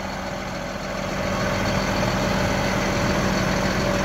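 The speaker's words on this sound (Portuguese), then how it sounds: "Olha o tamanho desse trator." Large Case Steiger 420 tractor pulling a 45-row corn planter, its heavy diesel engine running steadily with a deep, even rumble and a faint tonal whine, close and loud with no talk over it.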